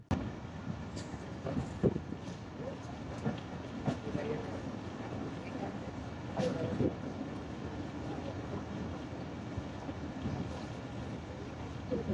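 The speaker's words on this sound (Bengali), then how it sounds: "৩ মিনিটের যাত্রাবিরতি শেষ করে Sirajganj express train Saidabad rail station থেকে ছেড়ে দিল" Sirajganj Express train pulling out of Saidabad railway station in Bangladesh, a steady low rumble and rattle of the carriages with gusts of wind noise, heard from on board at moderate loudness.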